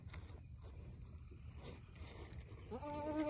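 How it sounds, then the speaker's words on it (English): A goat bleats once near the end, a short wavering cry that rises out of low outdoor rumble and scattered farmyard noise with cattle nearby. "Got jealous goats over here."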